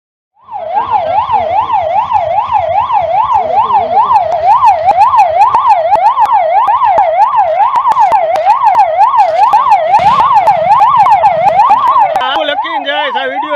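An ambulance siren wails loud and close at a closed railway crossing in the Kumbharwada area of Bhavnagar, cycling quickly and evenly up and down without a break before its pattern shifts near the end.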